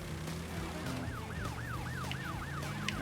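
Police car siren from the Crash Bandicoot 3 Warped video game, a repeating wailing whoop rising and falling steadily over a low engine rumble, fairly loud and without talk.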